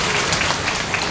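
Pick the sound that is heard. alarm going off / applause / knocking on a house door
applause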